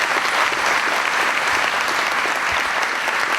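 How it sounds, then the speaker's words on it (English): Sustained audience applause at a live entertainment show, dense and steady with many hands clapping at once, fairly loud and close, continuing without a break and with no voices rising above it. "Let's give them a round of applause,"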